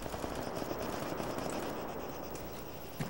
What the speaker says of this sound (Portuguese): Tiro.